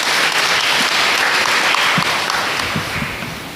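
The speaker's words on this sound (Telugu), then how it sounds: "ఒకసారి చప్పట్లు కొట్టండి వీరికి" A church congregation at a Catholic feast-day service bursts into loud, sustained applause, a dense wash of many hands clapping nearby that slowly tapers off toward the end.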